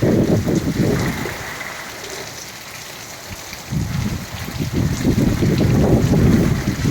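Heavy wind-driven rain in a thunderstorm downpour: a loud rushing wash that eases to a softer patter midway, then surges back with stronger gusts toward the end, with no talking.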